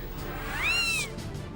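A cat, born with two faces, gives one clear rising and falling meow, close and loud against a quiet background.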